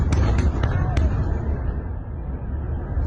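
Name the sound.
explosions from bombardment in war footage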